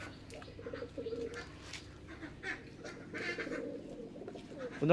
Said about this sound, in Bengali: এই দেখুন পায়রা দেখুন